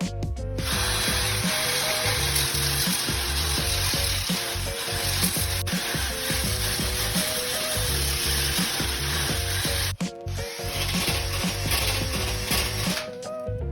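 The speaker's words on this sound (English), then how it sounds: "Drill with a 40 grit disc grinder, gonna just clean it up." A disc grinder fitted with a 40 grit disc cleans out a ding in a PU foam surfboard with polyester resin, a continuous loud grinding whir that runs nearly unbroken and is cut by one brief dip near the end.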